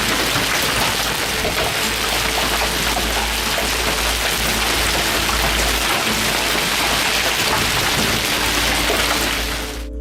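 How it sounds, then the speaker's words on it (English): Hail pelts down in a sudden evening hailstorm, a dense, steady roar of countless impacts that blends with heavy rain and continues unbroken at high loudness throughout. "we started hearing the clanks of the hail"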